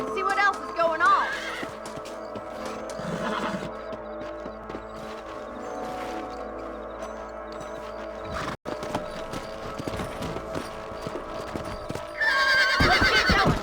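Horses in the Wild West game Red Dead Redemption, with steady clip-clop hooves and a loud whinny at the start and end, mixed with game background sound and voices.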